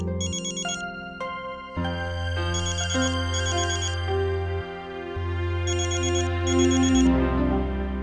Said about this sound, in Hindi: तुम्हारा फोन बज रहा है, उठा लो।